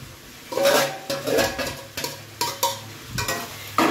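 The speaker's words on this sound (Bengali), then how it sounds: "এবার আমি সেই ভাজা এঁচড়গুলো দেবো" Fried jackfruit pieces are stirred into a pan of sautéed potatoes, with a spatula scraping and turning in bursts over a soft sizzle, close up and without voices.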